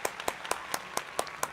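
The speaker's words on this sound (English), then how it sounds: "more claps." Steady rhythmic hand clapping, about seven sharp claps at an even pace, close and moderately loud with no talking.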